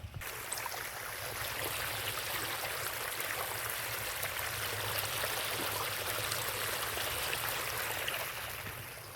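Water gushes from a motor pump into a farm field, a steady, rushing flow that stays even and close throughout, alone without talk.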